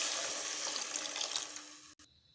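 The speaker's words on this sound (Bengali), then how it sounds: "এবার তো জল অ্যাড করে দেবো।" Water pours steadily into a pan of frying masala for fish curry, a continuous bright splashing rush that cuts off abruptly near the end, leaving near-silence.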